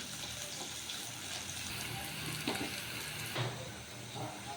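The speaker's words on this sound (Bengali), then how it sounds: "এখন একটু ভালোভাবে নেড়ে চেড়ে দিব।" Chopped onions and green chillies fry in oil in a wok while being stirred, giving a steady, soft sizzle with occasional scraping, faint and continuous throughout.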